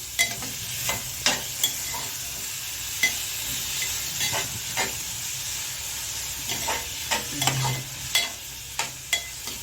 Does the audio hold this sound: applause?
no